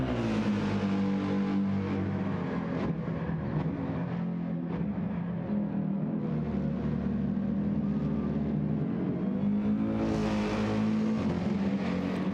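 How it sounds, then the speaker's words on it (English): Gran Turismo 7 race car engine with a deep baritone bass note, revving continuously, pitch swelling and dipping, climbing sharply to a higher-pitched scream near the end, loud and close with no voices. "this sounds awesome. This is something that's missing from a lot of engines in Forza, is the bass, the baritone, the deep"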